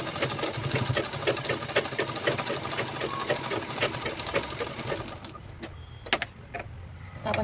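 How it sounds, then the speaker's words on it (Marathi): A sewing machine stitches a handbag with a steady, rapid mechanical chatter, loud and close, running continuously before stopping near the end and leaving a few isolated clicks. "मग त्याच्यावरती शिलाई लावून घ्यायची"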